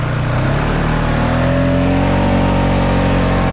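Polaris Sportsman 570 ATV engine revving loud and close as the machine is driven hard, pitch climbing steadily over a few seconds before cutting off abruptly, with no voices.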